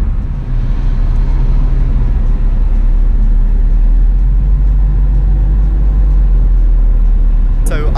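Cars from a Geneva Cars & Coffee convoy arrive at a dealership, a continuous heavy low engine rumble close by, with faint voices mixed in.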